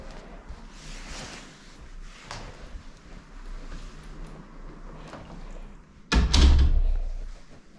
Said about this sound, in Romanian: Am închis ușa